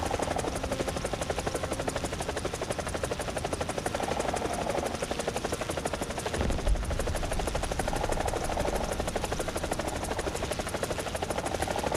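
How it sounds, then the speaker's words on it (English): A helicopter in the War Thunder video game drones loudly and steadily, its rotor beating in a fast, continuous chop that holds for the whole stretch. "Whoops, that's a chopper right there."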